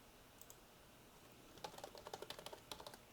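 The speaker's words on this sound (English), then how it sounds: "Typing in my password." A password is typed on a computer keyboard: a couple of soft isolated key taps, then a quick run of a dozen or so light, close clicks, quiet and alone.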